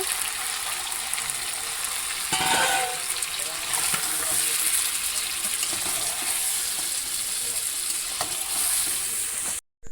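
Meat for biryani sizzling and frying in a pan with spices and a splash of water, a steady broadband hiss with stirring clatter throughout, close and fairly loud, then cutting off abruptly at the end.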